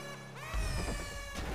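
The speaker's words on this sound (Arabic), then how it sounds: "اعمل الكلاكس بتاعها" A car horn honks in GTA V, a sustained harmonic blare with a rising pitch, loud and close, followed by a rumbling crash-like burst of engine noise.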